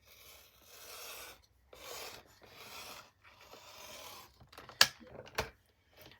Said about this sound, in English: So I'm just going to cut a couple of 1/4 inch strips to use as stems.